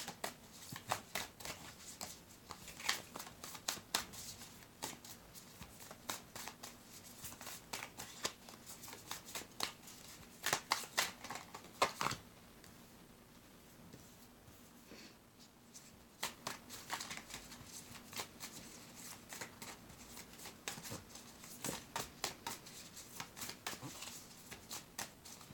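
Tarot cards are shuffled by hand at close range, with repeated riffling bursts and soft slaps in an irregular rhythm, faint and alone.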